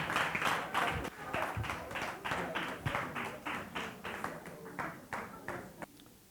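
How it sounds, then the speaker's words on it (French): An audience at a book-summary contest final claps together in a steady, fairly quick rhythm, the applause gradually thinning and fading out after a few seconds. "Est-ce qu'on peut applaudir pour elle?"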